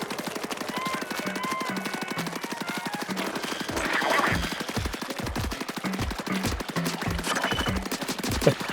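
Rapid ink-weapon fire in the video game Splatoon, a fast, even stream of sharp shots in repeated bursts over light game tones, fairly loud and close.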